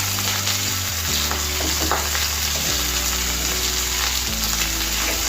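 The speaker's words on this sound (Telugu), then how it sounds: "ఇదంతా కూడా ఇవన్నీ కూడా బ్రౌన్ కలర్ వచ్చే వరకు వేయించుకోవాలండి. ఉల్లిపాయలు, పచ్చిమిర్చి." Onions and green chillies fry in a pan with curry leaves for semiya upma, giving a loud, continuous close sizzle with faint stirring under a steady hum.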